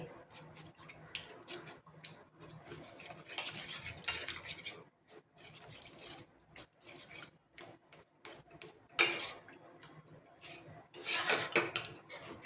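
Water chestnut sheera being stirred with milk in a pan, a steady run of soft scraping and rubbing strokes with a few brighter metallic scrapes, close and fairly quiet.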